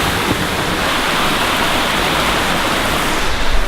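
Loud, continuous rushing of water pours steadily down a natural rock waterslide nearby in Olympic National Park, a dense broadband hiss without pause.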